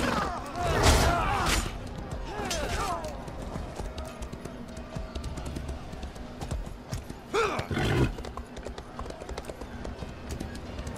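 Horse galloping in The Elder Scrolls Online, rapid rhythmic hoofbeats running under the game's combat noise, with a couple of loud neighs, and someone talking over it.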